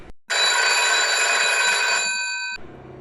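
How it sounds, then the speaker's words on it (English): A phone rings indoors in a bedroom, a loud, steady electronic ring lasting a little over two seconds before cutting off abruptly, with no other sound around it. "his phone suddenly rang"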